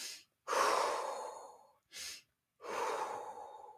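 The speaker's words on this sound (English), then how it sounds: "taking shorter inhales with longer exhales" Slow, close breathing alternates short inhales with long, drawn-out exhales, two full cycles of breath in a quiet room with no talking.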